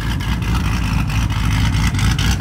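Modified Chevrolet Camaro engine rumbling and revving at a car meet, a deep, steady, throaty exhaust drone with a faint pulsing texture, close and fairly loud.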